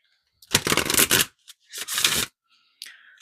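Oracle cards shuffled by hand in two quick riffling bursts, close and crisp, followed by a lighter brief shuffle.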